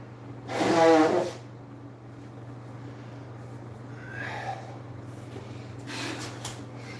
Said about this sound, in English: I'm blowing my nose again.